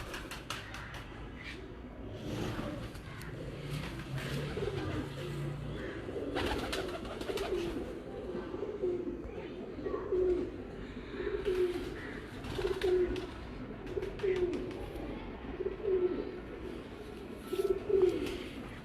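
Breeder pigeons in a loft in Kasur coo steadily, a chain of repeated low throaty coos that grows more regular toward the end, with background rustling and faint bird calls around them.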